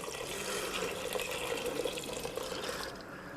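Strong beef broth pours from a jug into a pot, a continuous close splashing, gurgling stream that runs steadily and eases off at the end.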